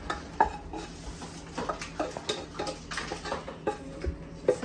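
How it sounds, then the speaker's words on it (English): A spoon stirs a cooked rice mixture inside a hollowed pumpkin, making soft, irregular scrapes and light taps, quiet and close, with no speech. "I'm gonna stir it around in the pumpkin."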